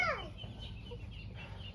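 Chickens on a provincial farm cluck softly while eating vegetables, a brief higher call at the start followed by low, steady clucking over outdoor background noise.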